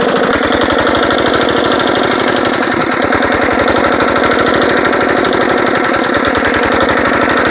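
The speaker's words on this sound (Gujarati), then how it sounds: "ટ્રેક્ટર ચાલુ થાય છે" A small nano tractor engine starts and chugs steadily at close range, loud and rhythmic, with a fast, even knock that never lets up.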